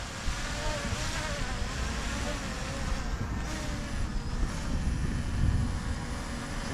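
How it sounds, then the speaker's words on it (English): A small Tizzy toy drone hovers nearby with a steady, high buzzing whir that holds evenly throughout under outdoor wind noise, with no one speaking. "Not a bad little drone"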